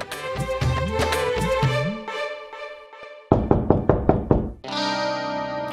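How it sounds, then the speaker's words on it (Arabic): Knocking on a door in a domestic drama scene: a quick burst of several sharp, loud raps close by, set among musical score and other effects, with no talking. "حبيبتي شوفي مين عم يدق."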